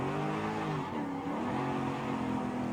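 Alfa Romeo 8C GT car engine in Forza Horizon 5, a steady loud engine drone with harmonic tones dipping and then rising again as revs change, with some tire noise, no speech.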